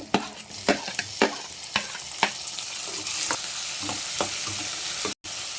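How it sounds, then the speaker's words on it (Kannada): Chopped tomatoes go into a pan of frying onions for a bitter gourd gojju. A run of sharp stirring knocks and scrapes settles into a steady, close sizzle with no talk. "ಈರುಳ್ಳಿ ಫ್ರೈ ಆದಮೇಲೆ 2 ಟೊಮೊಟೊನ ಚಿಕ್ಕದಾಗಿ ಕಟ್ ಮಾಡ್ಕೊಂಡು ಹಾಕ್ತಾ ಇದ್ದೀನಿ"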